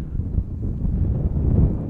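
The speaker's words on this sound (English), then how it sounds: "It's a little windy for that" Gusty wind buffets the microphone at an outdoor RC flying field, a steady low rumble that swells and dips in strength throughout, with no voices heard.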